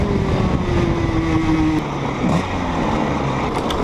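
An onboard race car engine droning loudly with a steady mechanical roar, its pitch sagging and then dropping abruptly as it falters and cuts out, with no talk.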